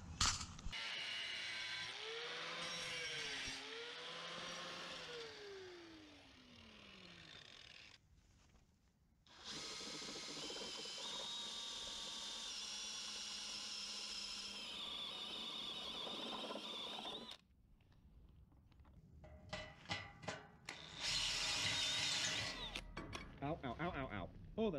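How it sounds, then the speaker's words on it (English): An angle grinder cuts through a metal piece of a Harbor Freight utility trailer, its loud, steady whine running in long continuous passes with brief pauses between cuts, close by and without speech. "I'm going to get out the angle grinder"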